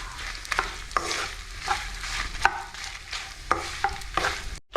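Peanuts frying slowly in a pan for a sweet potato and peanut chutney, a steady sizzle broken by repeated scraping strokes of a stirring spoon, close and even.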